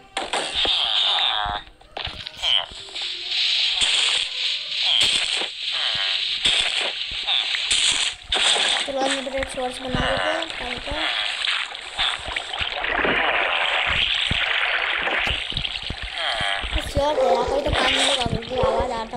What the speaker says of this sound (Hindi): यहाँ पे पानी लगाएंगे हम